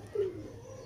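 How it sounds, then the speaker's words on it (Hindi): A single short, soft coo from a pigeon, close and brief, over a low steady background hum. "कबूतर तंग कर रहा है थोड़ा सा"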